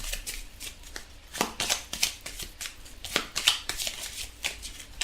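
Tarot cards being shuffled by hand during a daily love reading, a run of quick riffling bursts with papery slaps repeating close to the listener, with no voices over them.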